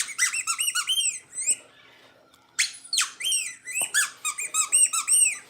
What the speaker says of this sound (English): a little squeaky toy is always a surefire way to get a rise out of them